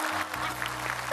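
Audience applause in a TV studio during a New Year's variety concert, a continuous crowd clapping at moderate volume over a low steady hum, with a brief brighter tone near the end.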